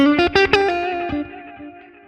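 Short distorted instrument phrase run through an analog delay with modulation, a few struck notes whose repeats wobble and fade gradually, close and fairly loud without speech.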